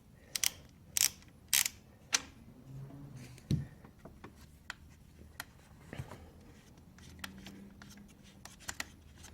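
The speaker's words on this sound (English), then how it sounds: "I'm just gonna take the ratchet and gently break it free." A ratchet breaks free a half-inch nut on the alternator of a supercharged C6 Corvette with an LS3 engine. Sharp, close metallic clicks and clacks come in irregular bursts over quiet shop background.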